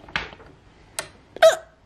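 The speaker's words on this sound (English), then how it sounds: "Why do I have the hiccups at nighttime?" Two or three short, sharp hiccups from a person at night, close and abrupt with quiet gaps between them.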